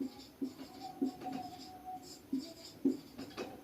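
A pen writes on paper during a maths lesson, making soft, faint scratching strokes in short irregular bursts over a few quiet seconds, with no talking.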